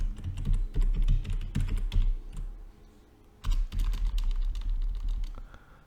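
Rapid, uneven keystrokes on a computer keyboard as a password is entered, close and clear, coming in two bursts separated by a short pause.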